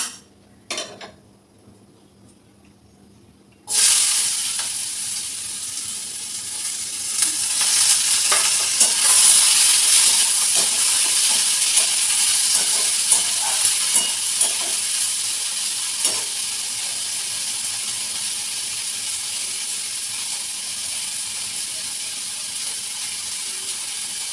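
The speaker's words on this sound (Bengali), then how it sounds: "চলো আলুটা ভেজে নিই" Potatoes frying in a pan: a quiet start with a few knocks, then a sudden loud, continuous sizzle that holds steady, with occasional stirring scrapes and no talking.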